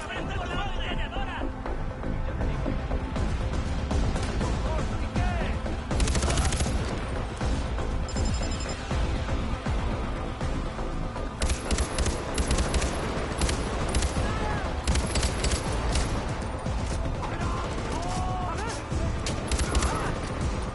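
Sustained machine gun fire and bursts of gunshots in Far Cry 4 rattle on almost without pause, loud and dense, with someone speaking over the battle at times.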